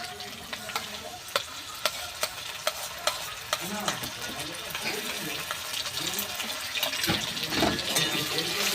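Cashew, melon seed and poppy seed paste stir-fried in a pan for chana masala, a rhythmic run of spatula taps and scrapes over a continuous sizzle, close and moderately loud.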